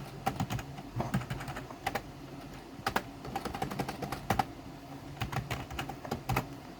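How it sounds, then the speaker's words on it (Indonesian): Fingers tap out a print statement for a small addition program on a computer keyboard, in quick irregular bursts of crisp, close keystrokes separated by short pauses. "Kita ketikkan print untuk menampilkan program penjumlahan"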